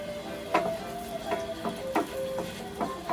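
Onion sautés in a pan with a steady sizzle, broken by several light scraping stirs at irregular intervals, close and moderately quiet.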